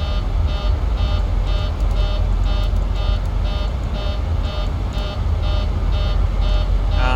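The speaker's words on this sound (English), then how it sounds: "that alarm that is very effing annoying right now is our cabin pressure" Cabin pressure altitude warning in a Boeing 737 Zibo mod flight simulator, a loud, rapid, evenly spaced beeping that repeats without pause over a steady low cabin rumble.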